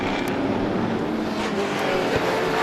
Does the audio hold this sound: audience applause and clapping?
no